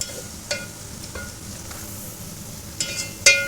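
Fried karela is tipped into a cooking pot, with scattered clinks and scrapes of utensil against metal over a soft background hiss, a few sharp knocks toward the end.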